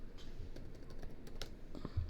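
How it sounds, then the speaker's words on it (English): Quick irregular key clicks from typing on a computer keyboard, fairly close but quiet, with no talk. "Loud typing."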